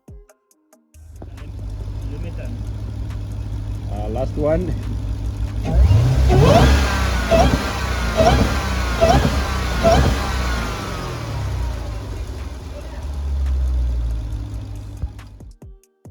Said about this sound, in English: the supercharger whine, which is what the Hellcat engine in this car is best known for.